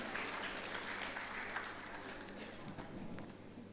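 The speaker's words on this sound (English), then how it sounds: "So I believe we deserve another round of applause." Audience at an international climate change summit in Lagos applauding, a faint, continuous patter of many hands at a distance, with a low steady hum beneath it throughout.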